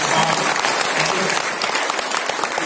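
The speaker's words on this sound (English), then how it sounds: "I'd like to give you a round of applause" Dense audience applause at a VMware event fills the whole stretch, steady and loud with a broad wash of claps and no break.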